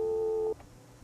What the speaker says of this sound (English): lift the handset to listen for dial tone